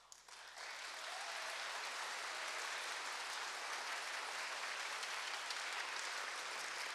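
An audience breaks into applause, starting with a few scattered claps and then swelling within a second into a sustained, even wash of clapping that holds steady and fairly distant.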